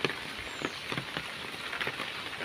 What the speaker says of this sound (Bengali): মোটামুটি গতকাল থেকে বৃষ্টি শুরু হয়েছে